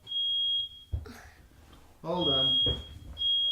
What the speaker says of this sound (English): That's our smoke alarm.